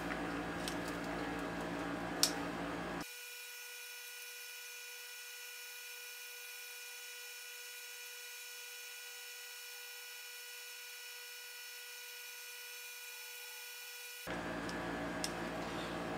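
A power tool whirs steadily while mixing a resin mixture for three minutes, a continuous high mechanical hum between quieter stretches of room noise.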